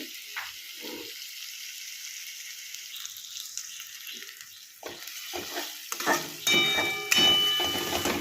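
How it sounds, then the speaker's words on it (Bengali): Paneer sizzles quietly as it fries on low heat in a pan, broken by scraping stirs and clatter, growing louder and busier toward the end. "লো সিমে এটা মিনিট দুয়েক ভালো করে ভাজা ভাজা করতে হবে"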